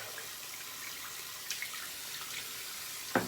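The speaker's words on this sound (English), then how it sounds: "Get my brush rinsed out here." A shaving brush rinsed under a running tap, a steady soft splashing flow with a few faint drips and a sharper knock near the end.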